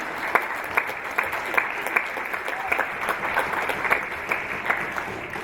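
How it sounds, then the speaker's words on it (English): Spectators at a youth futsal tournament applaud the match officials, with sustained clapping from a crowd in a large indoor hall, steady and even. "a big round of applause please for all the match officials of the tournament"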